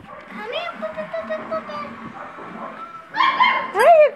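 Small Australian Labradoodle puppies yip and whimper in high, wavering cries, growing louder and more insistent near the end, with a person's voice talking underneath.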